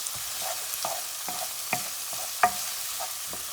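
Garlic fries in a pan as the base for chicken fricassee, a steady close sizzle with repeated stirring scrapes and light clicks from the utensil, and no voices.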